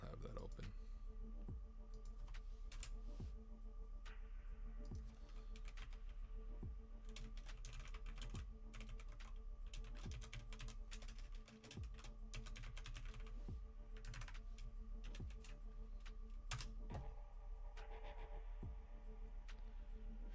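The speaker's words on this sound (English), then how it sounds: "Am I typing his name wrong?" Rapid, irregular keystrokes on a computer keyboard during an Active Directory hacking session, steady clicking bursts up close over a low hum, with talking mixed in.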